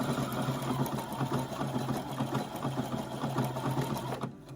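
A fussy home sewing machine running steadily, its needle stitching in a fast, even mechanical rhythm that stops abruptly at the end, close and alone.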